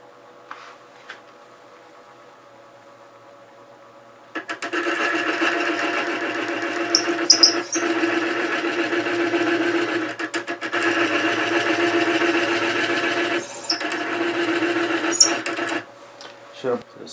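A wood lathe spins up after a quiet start, turning a small pocket pill box at no more than 450 rpm with a steady mid-pitched whir and intermittent tool scraping, then winds down near the end.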